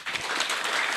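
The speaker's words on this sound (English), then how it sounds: "Let's clap for him." Audience clapping at an international student event, a short burst of dense, steady applause from a crowd that fills the whole moment without any speech.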